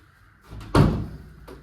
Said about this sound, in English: Close the door for you.